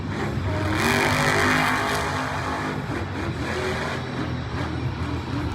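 A monster truck engine roars steadily through a Monster Jam freestyle run in a Philadelphia stadium in 2024, loud and continuous with surging revs and crowd-like noise underneath.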